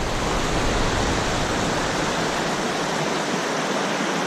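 A mountain stream in the Catoctins rushes steadily nearby, a constant broadband wash of moving water with no breaks or other sounds.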